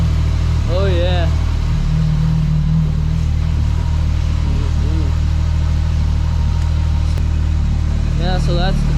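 A 1200cc four-stroke dirt bike engine runs at a loud, steady idle after a snowstorm, a deep continuous rumble with brief voices talking over it.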